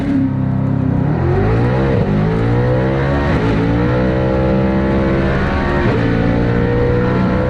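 A 2020-plus Ford GT500 with a dual-clutch transmission screams hard under acceleration, the steady engine pitch climbing through gears with brief dips and a flaring jump in revs, loud and continuous.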